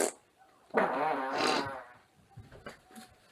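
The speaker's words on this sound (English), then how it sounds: "That was the best fart yet!" A loud, close fart rumbles for about a second, then trails off into a few quieter, sputtering puffs, with no speech.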